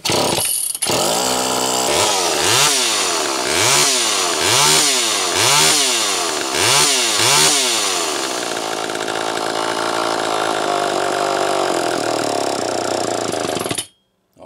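A Homelite Super EZ chainsaw with a problematic Walbro HDC-44 carburetor runs loud and close, its engine surging up and down in about six rhythmic revs before settling to a steady drone that cuts off abruptly.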